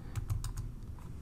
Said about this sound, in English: I'll just start typing index